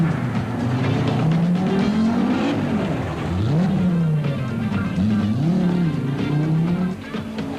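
Volkswagen Passat Synchro rally car racing in the 1987 Nissan International Rally, its engine revving up and down loudly through gear changes as it works through a section, with tire noise throughout.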